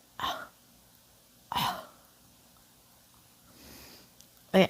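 A voice imitating a weak, unproductive cough from a chest cold: three short dry bursts of breathy throat sound separated by pauses, with a softer exhale between them, close and quiet.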